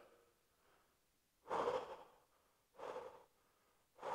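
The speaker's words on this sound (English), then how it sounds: "Trying to control my breathing as well." Slow, deliberate breaths during a forearm stretch, three loud exhalations spaced about a second and a half apart, heard close up with quiet pauses between them.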